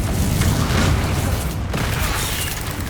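The Confringo blasting spell in the video game Hogwarts Legacy, a loud, sustained rumbling explosive roar with a brief burst midway, dense and close, without talk.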